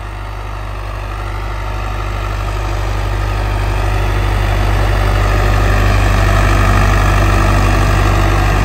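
A tractor engine runs steadily in high first gear, moving freely without load, a loud, continuous low diesel drone that holds close and constant throughout, with someone speaking briefly over it.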